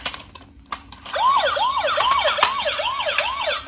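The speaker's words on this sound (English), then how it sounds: "Police car toys. Wow. Police car." Toy police car wailing a fast up-and-down electronic siren, repeating in quick regular cycles, loud and close, preceded by a few sharp clicks.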